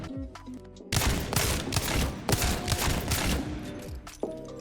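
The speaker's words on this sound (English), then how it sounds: "Strafe left and right and shoot the mannequins." Rapid bursts of gunfire in Apex Legends as a player shoots training mannequins while strafing, dense and loud for most of the stretch before fading back to quieter game ambience.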